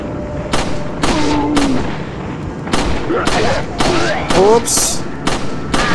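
Video game gunfire and explosions: a string of loud, sharp shots and booms in irregular bursts, close and dominant, with a voice briefly heard between them.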